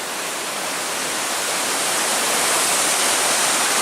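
Rushing river water along the Superior Hiking Trail, a steady, loud broadband roar with no breaks, close by and unbroken throughout.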